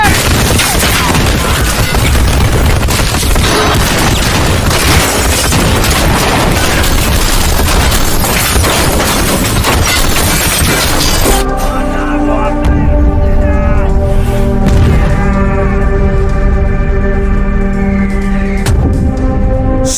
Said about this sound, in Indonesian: This heavy machine gun! They destroy helicopters!